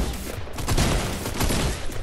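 Rapid pistol gunfire from the video game Fortnite, a dense burst of shots running continuously through the clip at steady loudness with no talk over it.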